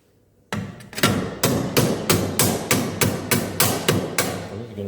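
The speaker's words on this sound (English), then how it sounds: "I'm probably going to round it and use the peen end." The peen end of a hammer shapes sheet metal on a Ford XB Falcon GS, giving about a dozen loud, close, ringing blows at a steady quick rhythm after a brief quiet start.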